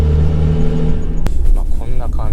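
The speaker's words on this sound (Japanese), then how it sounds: "低回転、今1000回転からアクセルをガーッと踏んでいきます" A Nissan Fairlady Z33 engine with a NISMO clutch and lightweight flywheel roars loudly from a low 1000 rpm idle hum, then its revving note climbs and wavers as the throttle opens, close up.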